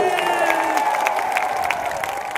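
A huge BSP political rally crowd cheers loudly and continuously, with dense clapping and shouting that stays close and strong throughout.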